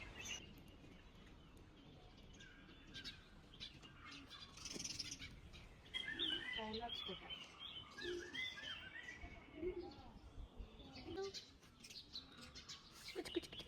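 Birds sing and chirp at sunrise in Ooty, scattered calls and short trills rising over a soft, quiet background, faint and somewhat distant, with no talking.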